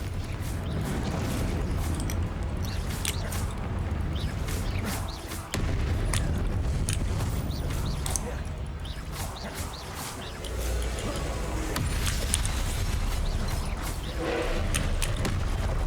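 A Confringo spell blast in the Hogwarts Legacy video game, heard within dense, loud combat noise of booms, crashes and clattering effects that runs almost without a break.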